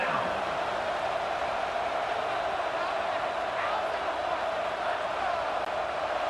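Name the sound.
Red Raider crowd noise at a football game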